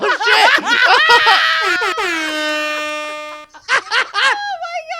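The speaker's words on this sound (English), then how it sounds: "A fucking Jamaican air horn gets played, and Ashley's face lights up" A loud air horn sound effect blares in a long sustained blast, then short repeated honks follow, mixed with excited voices and laughter.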